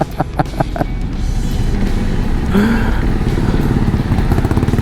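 A 2021 Honda CRF 250 Rally motorcycle engine is revved on the road, a loud, close, buzzing single-cylinder drone that climbs in pitch as the throttle opens and holds steady, with no talk over it.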